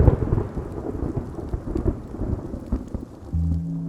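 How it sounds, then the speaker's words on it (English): Heavy rain pours steadily in a forest during a thunderstorm, with dense drumming on foliage and repeated low thunder rumbles, growing harder and louder near the end. "There's simply far too much rain."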